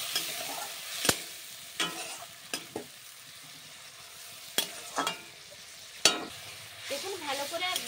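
A spatula scrapes and clacks against a pan as fried spice paste is stirred with water for a Bengali rohu fish curry with cauliflower. Faint sizzling sits under intermittent sharp knocks, close and fairly quiet.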